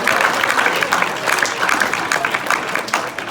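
An audience claps steadily for a contestant at a hypnotist show at an after-prom event, with dense, sustained applause and some crowd noise filling the room throughout.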